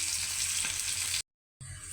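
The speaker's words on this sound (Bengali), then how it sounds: "মাছ ভাজা শেষ" Fish sizzling steadily in a hot frying pan while cooking at home, a dense hiss that cuts out briefly and resumes, with no voices.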